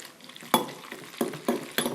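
Kraft Dinner mac and cheese is stirred in a pot with butter and milk, giving four or five sticky, wet scrapes and clacks of a utensil against the pan. Each stroke is spaced irregularly over a quiet background.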